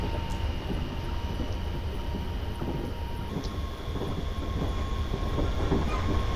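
A Class 380 train rumbles steadily along the rails with a constant low roar, faint rhythmic clicks and a thin high whine, heard from inside.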